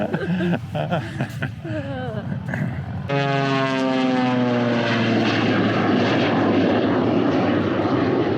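Turboprop airplane flying over AirVenture, its steady propeller drone and turbine whine rising into a loud pass after a few seconds of voices chatting nearby, the roar holding continuous to the end.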